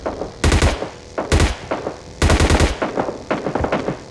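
Automatic gunfire in the mobile battle royale game PUBG Mobile Lite: loud, close bursts of rapid shots separated by short pauses, ending with a few scattered single shots, with no talk.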